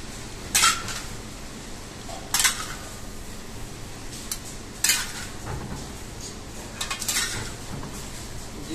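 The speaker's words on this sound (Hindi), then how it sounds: "देन उसके बाद आपने सेम ऐसे ही मिक्स करना है जैसे मैंने अभी आपको बताया, हल्के हाथ से इस तरीके से मिक्स करना है आपको।" Vegetable filling for spring rolls is being mixed lightly in a bowl. Soft, continuous rustling comes with sparse, sharp clinks of utensils and dishes, close by in a busy kitchen.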